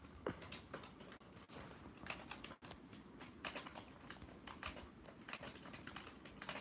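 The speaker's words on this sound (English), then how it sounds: "That's my ergonomic Microsoft keyboard." Typing on an ergonomic Microsoft keyboard makes a continuous, fairly quiet flurry of key clicks with irregular rhythm and occasional louder taps, heard alone without talk.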